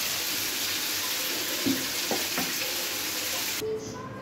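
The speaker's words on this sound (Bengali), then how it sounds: "মাছগুলো ভেজে নিচ্ছি" Hilsa fish fry in a pan with steady, loud broadband sizzling, a few soft clinks of a utensil partway through, and the hiss cutting off sharply near the end.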